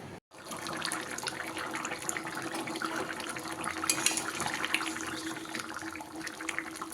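Water pours steadily into a cooking pan of fried poppy-seed curry, a continuous close splashing rush after a brief cut.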